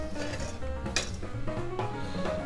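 A cooking pan is handled on the stove, giving a steady run of clinks, knocks and metallic scrapes close by, with a sharper clatter near the middle and no talk over it.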